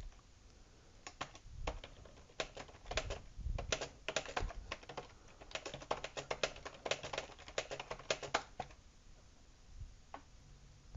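Typing on a computer keyboard, with dense, irregular runs of crisp key clicks and a few short pauses, close-up and quiet with no talking.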